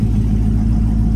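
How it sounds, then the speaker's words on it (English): A 1971 Chevy car engine idles steadily nearby, a smooth continuous low rumble with no revving or breaks and no voices over it. "Car idling real good"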